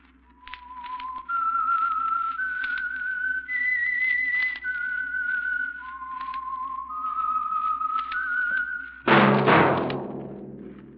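A lone whistler carries the theme melody of The Whistler radio drama, a series of sustained clear notes stepping up and down, ending with a sudden thud and a burst of noise.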